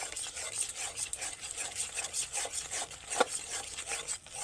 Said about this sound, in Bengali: এইবার মশলার সঙ্গে টক দইটা ভালোভাবে কিন্তু মিশিয়ে নিতে হবে।